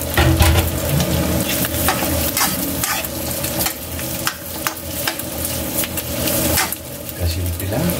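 Fishballs stir-frying with fresh pancit in a hot pan, a steady loud sizzle with repeated scraping and stirring strokes throughout.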